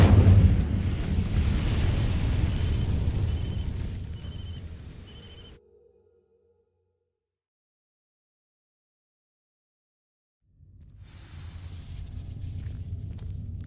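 Incendio fire spell cast in Hogwarts Legacy on PC, a loud roaring, whooshing burst that rumbles for several seconds, cuts to near silence, then a second rumbling swell rises again.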